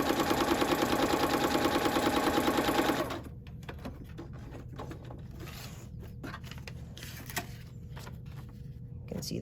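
A sewing machine stitches a 5/8 inch seam in a fast, even mechanical chatter for about three seconds, then stops, leaving quiet room noise and faint handling sounds.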